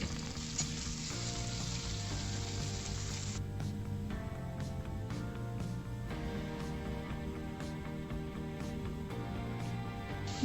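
Turmeric- and salt-coated fish frying in hot oil, giving a steady, close sizzle that runs continuously with tonal music playing underneath.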